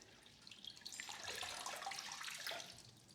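Tap water runs into a glass in a steady, soft splashing stream that grows slightly fuller before easing off, with no voices.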